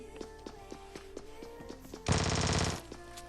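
Shotgun fire in the mobile shooter Scarfall 2.0 rings out as a sudden loud blast with a brief rattling tail, following a run of rhythmic, softer in-game tapping sounds.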